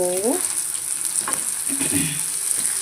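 A batch of vegetarian liver pieces, the mock liver for a curry, frying in oil in a pan, giving a continuous loud, close sizzle with faint stirring sounds.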